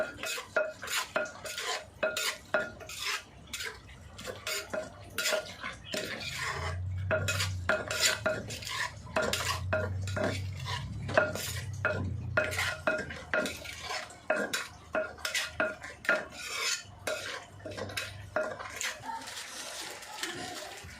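Repeated pestle strikes pounding ingredients in a mortar for an Isan-style dish, a steady rhythm of sharp knocks at close range with occasional clatter, under intermittent talk.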